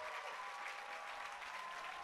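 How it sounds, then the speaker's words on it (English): Belgium's quidditch team applauds the home crowd at the 2018 IQA World Cup final against the USA, a steady wash of many hands clapping, heard faint and distant throughout. "And now Belgium applauding the crowd."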